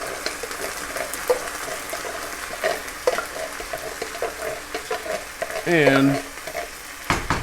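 Crushed tomatoes, two 28-ounce cans, go into softened onions in a hot pan over medium-high heat, setting off a loud sizzle and a steady stir-fry crackle that swells briefly near the end before cutting off.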